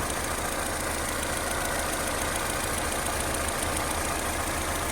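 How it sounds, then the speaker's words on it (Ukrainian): Opel Vectra C engine idling steadily after a high-pressure fuel pump replacement, a continuous close mechanical hum with a faint ticking rhythm and no talk. "Як на мене, то двигун може трошки все ж таки підтраює, але насос працює."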